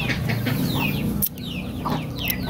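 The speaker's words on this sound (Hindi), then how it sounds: "माशाल्लाह से चिकन भी मुर्गियाँ भी हैं" Chickens and hens at a mini zoo cluck steadily and close by, a dense overlapping chorus of short calls with no talking.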